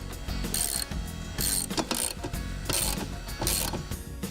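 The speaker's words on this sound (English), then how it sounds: "Now tighten down all of the nuts onto the U-bolts." A ratchet wrench tightens nuts onto the U-bolts of an ATV front-rack mounting bracket, clicking in rapid bursts of repeated strokes, close and loud, with no talk.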